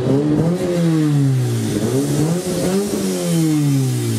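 Engine of a Fiat car running and revving, close and loud, with the pitch repeatedly rising and falling through several throttle blips over a rough idle clatter.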